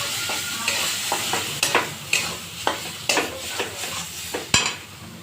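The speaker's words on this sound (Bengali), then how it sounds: "তেল গরম হয়ে গেছে, দেবো একটু কালো জিরে আর একটু হিং দিয়ে দিয়েছি।" Nigella seeds and asafoetida sizzle in hot oil in a pan, a steady fry under repeated close clinks and scrapes of a stirring utensil, no voices.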